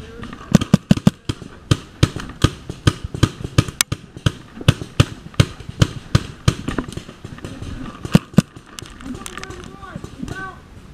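Paintball guns fire in an outdoor game, a rapid series of sharp, fairly close pops in irregular bursts throughout, with players shouting over the shots.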